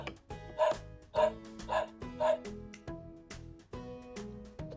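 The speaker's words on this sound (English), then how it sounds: "This is a dog." A dog barks in a string of short, clear woofs and yips, about seven or eight barks spaced irregularly, close and distinct with no talk.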